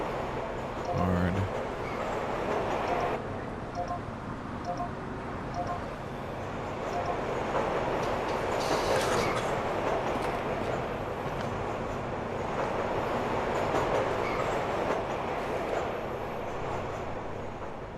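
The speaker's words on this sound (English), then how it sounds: "Hearing the train go around was cool" A train in a video game train simulator rumbles along with a low, steady rolling drone and occasional rail clatter and hiss, while a person talks over it throughout.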